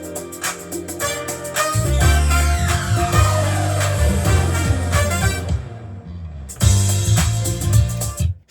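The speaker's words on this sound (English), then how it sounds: "So that's the riser, and I've used it throughout the track here and there" A riser effect inside a music track with brass: dense full-band music with sweeping tones building, a brief drop-out, then the full mix slamming back in loudly.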